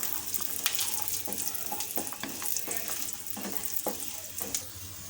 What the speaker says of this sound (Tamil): இந்த டைம் முந்திரி பருப்பு சேர்த்துக்கலாம் ரெண்டையும் சேர்த்துட்டு வறுத்துப்போம்